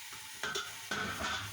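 Onions and tomato puree cooking in a pot for degi aloo gosht with mutton: a soft, close sizzle under two brief bursts of spoon-stirring scrapes, no voices present.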